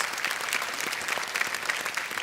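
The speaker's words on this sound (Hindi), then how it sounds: "एक बार जोरदार तालियां श्रुति के लिए" A studio audience on a TV quiz show claps steadily for a contestant, a continuous, moderately loud roomful of applause with no pause.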